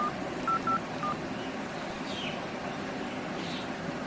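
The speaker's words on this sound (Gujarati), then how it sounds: "ફોન કરો" Telephone keypad tones are dialed in a short burst of about three beeps, with a pause before a final one, over steady background noise in an indoor comedy scene.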